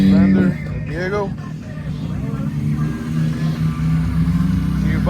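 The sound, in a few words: Polaris off-road vehicle engine revving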